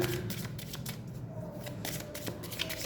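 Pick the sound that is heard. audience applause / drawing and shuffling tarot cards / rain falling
drawing and shuffling tarot cards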